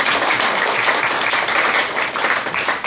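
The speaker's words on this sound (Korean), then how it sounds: "박수 한번 줍시다." A church congregation applauds for elementary Sunday school teachers, loud close dense clapping that swells and dips slightly over about three seconds.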